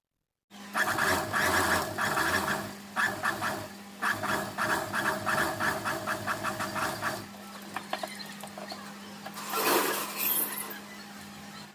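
A sewing machine stitches a second seam beside the edge of a shirt, running in steady bursts of rapid mechanical chatter for about seven seconds, then slower, lighter stitching and a brief scraping rustle, close up.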